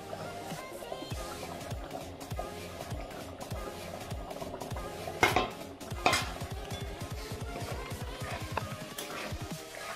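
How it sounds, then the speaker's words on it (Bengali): Kasuri methi and coriander leaves being stirred into an egg tarka in a metal pan, a busy run of rhythmic spoon scrapes and clinks over a light sizzle, close up and steady, with no voices. "এবং এর সাথে আমরা মিক্স করবো কসুরি মেথি আর ধনেপাতা"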